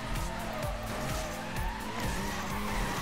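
Tires squeal and skid as a car drifts in the racing video game Need for Speed: Most Wanted (2012), with a steady engine roar underneath and repeated screeching swells throughout, close and loud.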